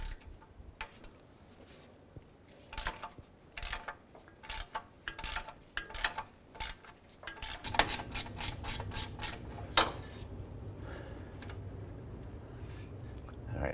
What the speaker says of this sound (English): We just switched over to a 15mm ratchet wrench here.